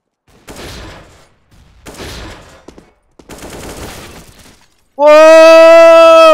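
Video game gunfire in three ragged bursts of sharp cracks and clatter, followed by a loud sustained tonal blare.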